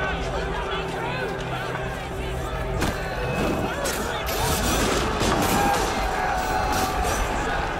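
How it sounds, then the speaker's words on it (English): A large revolutionary crowd in Assassin's Creed Unity storming the Paris palace by force after guards are assassinated: a loud, dense roar of many voices with scattered gunshots and crashes, swelling and intensifying as it goes. "Assassinating the guards inspired the crowd to storm the palace by force."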